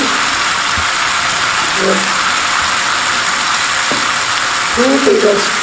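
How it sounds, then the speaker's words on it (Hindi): Chicken frying in a pan with tikka masala spice for a chicken pizza topping gives a steady, even sizzle throughout, with a few brief clinks and scrapes near the middle and end. "फ्राई करेंगे वाइट होने तक"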